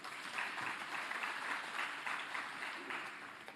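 Steady applause from a large audience at a party provincial gathering, honouring the police, filling the space evenly as a dense wash of clapping with no pauses and faint crowd murmur beneath.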